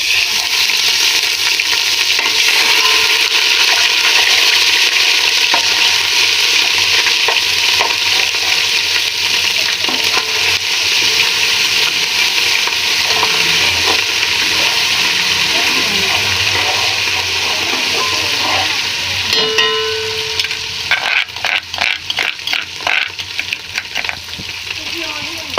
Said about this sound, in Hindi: ये अदरक लहसुन जो है इसे हमने हल्का सा गोल्डन करना है।